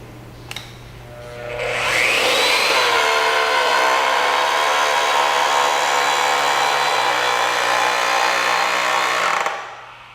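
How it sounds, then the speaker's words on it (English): An electric pipe bender bends a pipe with a loud, steady motor whine that ramps up after a click, holds for about seven seconds, and then winds down abruptly. "Press the trigger switch and hold until the pipe is bent to the desired angle."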